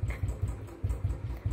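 A motorcycle left running while parked at a village house, its engine idling in a steady, quick low thumping pulse, close and alone.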